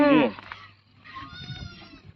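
A goat bleats loudly up close on a farm, followed by a softer, wavering bleat from farther off.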